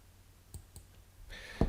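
A computer mouse clicking on a link, a few soft, sharp clicks close by in a quiet room, followed by a brief louder knock at the end.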